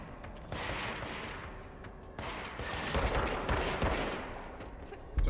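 Gunfire from weapons in the game Control: dense, loud bursts of repeated shots in clusters over several seconds, with short gaps and a final sharp blast.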